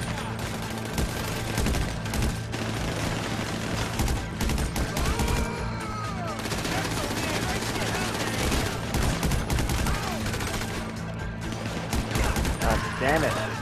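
Sustained automatic AK gunfire in a video game fight, with loud rapid bursts that continue almost nonstop and dense overlapping shots, while voices speak underneath at times.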